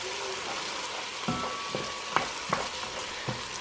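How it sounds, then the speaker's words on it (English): Onions cooking in a pot of marinara sauce with salt and black pepper, a steady sizzle and frying hiss with a few soft spoon scrapes and clacks as they are stirred, close by. "I'm just going to get this stirred up a little bit."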